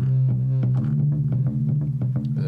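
Omnisphere synthesizer patch drenched in delay and a couple of effects, slightly clipping: a sustained low droning tone with repeated plucked attacks echoing across it, loud and alone.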